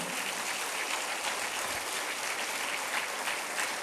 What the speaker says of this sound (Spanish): Dile un aplauso al Señor